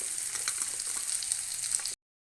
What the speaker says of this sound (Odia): କ୍ୟାପ୍ସିକମ୍ଟି ଆମର ଏବେ ଭାଜି ହେଇଗଲାଣି